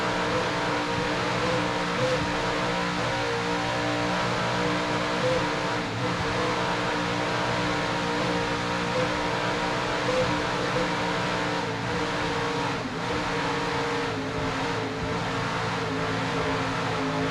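Racing powerboat with 750-horsepower inboard engines, a loud, steady roar that holds throughout with a constant throbbing drone.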